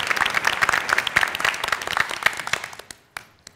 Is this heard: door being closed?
no